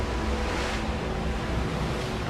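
Ocean waves wash steadily onto an Antarctic shore, a dense continuous roar of surf with some wind rumble, close and loud throughout with no talking.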